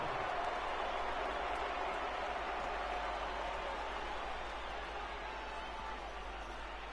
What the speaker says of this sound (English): that's cheering for Miami